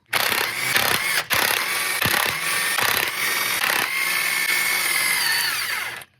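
An air impact tool spins and rattles continuously while removing the flywheel from a 1968 Saab 96 V4 engine, loud and close, with a brief stop near the start and a steady run-down at the end.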